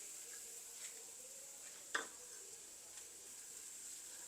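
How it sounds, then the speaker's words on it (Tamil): Onions frying in a pan for a dried baby prawn sambol, giving a steady, soft sizzle with a few faint clinks of a spoon or stirring tool against the pan; no voices. "நல்லா கொஞ்சம் வெங்காயம் நல்லா கொஞ்சம் பொரியட்டும்"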